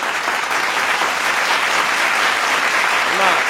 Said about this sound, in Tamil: ஒரு பொண்ணு பேசுறாங்கன்னு இப்படி கைத்தட்டுறீங்க பார்த்தீங்களா நீங்க?